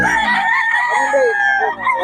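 A rooster at a busy Bocaue gamecock market lets out a loud, close, drawn-out crow lasting about two seconds, standing alone against the background.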